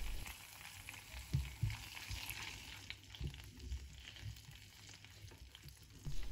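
White wine hitting a hot frying pan with cod for a keto salsa, giving a faint, steady sizzle with soft stirring scrapes and a few low knocks against the pan.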